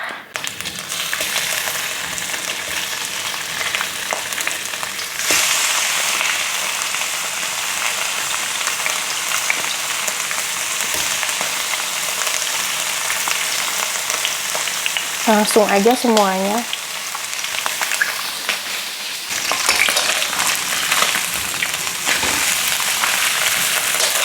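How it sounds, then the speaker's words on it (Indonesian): Pieces of wet pindang tongkol fish frying in hot oil, a steady loud crackling sizzle with occasional stirring scrapes, while someone speaks briefly over the cooking. "Di sini aku gorengnya sampai mateng, rada kering gitu."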